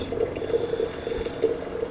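Water pours steadily for brewing coffee during sample roasting, a thin continuous trickle with a faint splashing texture, close and moderately quiet, with no talking.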